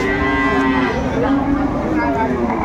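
Cow mooing loudly and close at Aftabganj cattle market, where cows and calves are sold, a sustained low bellow filling the whole moment amid busy market noise.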